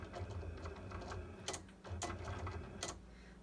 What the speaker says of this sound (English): I don't usually use my Cricut up here on the desk